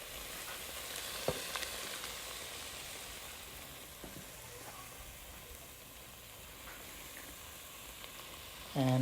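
A vegan eggplant and tofu curry cooking in a pan gives a steady, moderate sizzle with occasional soft stirring clicks, close by and without talk, ending in a brief louder tonal sound.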